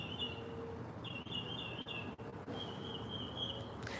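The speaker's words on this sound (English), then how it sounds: "Listen to the birds." Birds chirping outdoors in repeated bright, high bursts of song separated by brief pauses, fairly faint and distant over a soft background hum.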